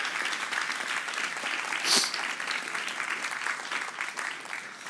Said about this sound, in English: So let's give them a round of applause as a thank you.